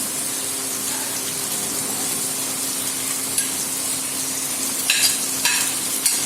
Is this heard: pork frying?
yes